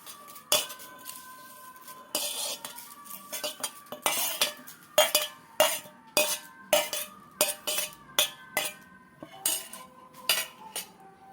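Curry leaves go into a steel mixer jar with a series of sharp metallic clinks and taps of a spoon against the jar. The clinks come irregularly, then fall into a quicker rhythm, close and clear, with no talking.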